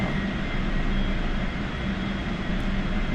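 An A-4 Skyhawk jet in the DCS flight simulator flies a carrier pattern near the Forrestal, a steady droning engine roar with a low hum, constant and close, with no talking.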